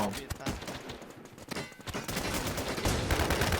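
Rapid gunfire from a shooting video game crackles in dense bursts, loud and nearly continuous across the moment, with a voice speaking over the shots.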